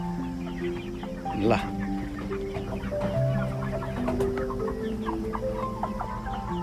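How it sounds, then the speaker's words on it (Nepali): Backyard flock of two-month-old chickens with young chicks cheeping and a rooster among them, clucking and squawking close by in overlapping bursts while a person talks over them. "11 दिनको कुखुरा हो यो"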